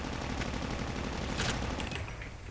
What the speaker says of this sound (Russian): Ого, там кто-то сзади что ли стреляет?